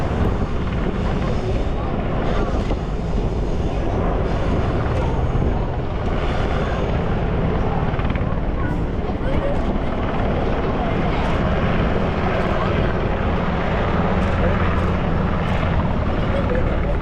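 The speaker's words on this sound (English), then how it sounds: "The helicopter flying the national flag is the Navy's MH-60R helicopter." A Navy MH-60R helicopter carrying the national flag flies over Sydney Harbour during Australia Day celebrations, giving a loud, continuous rotor and engine roar that stays close and steady throughout with no break.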